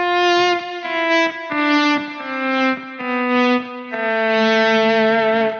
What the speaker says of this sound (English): this lead sound is, it's got some reverb on it